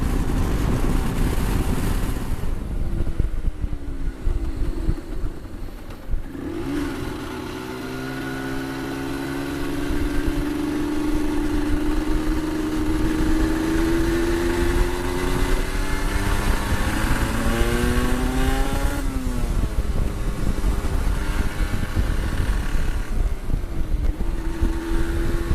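A Yamaha TDR 125cc motorcycle cruising near 100 km/h on a country ride, its engine droning steadily and loud throughout with rising and falling pitch as it shifts gears, no voices.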